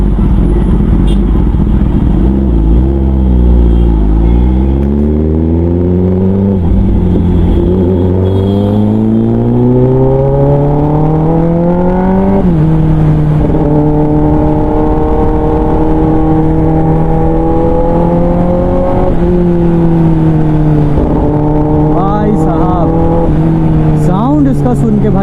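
A modified Kawasaki ZX10R 1000cc motorcycle engine, loud up close, revving repeatedly in sweeping rises and drops through the gears with sharp auto-blipper downshift bursts, continuous and powerful throughout.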